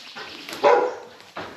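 Puppies on a farm with sheep nearby yelp and whimper in short bursts, a louder cry in the middle and another at the end, close and fairly clear over a quiet outdoor background.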